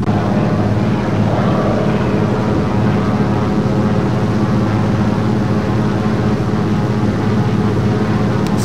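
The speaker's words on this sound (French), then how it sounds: "9 cylindres. Tac, tac, tac, tac, tac, tac. Voilà, ça, c'est du moulin. 9 cylindres en étoile." Nine-cylinder radial engine of a DHC-2 aircraft in the X-Plane 11 flight simulator roars loud and continuous, a dense, steady drone with no breaks.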